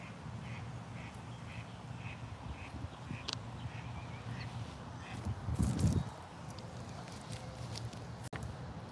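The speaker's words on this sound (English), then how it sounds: "What should we name this duck? And why is he getting so close to me?" Duck close by in Florida, giving a series of soft, rhythmic quacks over quiet outdoor background, with a few rustling footsteps and a brief louder scuffle partway through.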